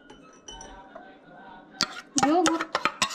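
A spoon clinks against a dish while mango puree is mixed, giving a quick run of bright, close taps and scrapes after a faint voice at the start.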